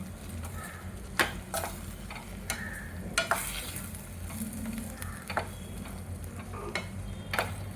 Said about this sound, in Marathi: आता आपण मिक्स करू हे सगळं